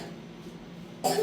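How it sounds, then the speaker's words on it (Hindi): A child coughs in a quick burst near the end after quiet room tone, close and fairly loud. "खांसो बेटा, खांसो।"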